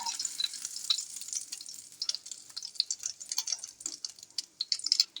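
Battered chicken fillet cutlets fry in a pan of hot oil with a bright, crackling sizzle and irregular spits and pops, close and fairly soft, with no voices.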